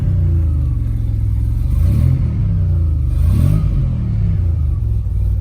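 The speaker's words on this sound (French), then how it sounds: "le V6 PRV est un moteur qui a un bruit rauque" A 1983 Renault Alpine with a V6 PRV engine revs in two rising and falling surges over a steady deep, raspy rumble, loud and close, with no voices.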